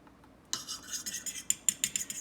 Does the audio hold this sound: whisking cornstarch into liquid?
yes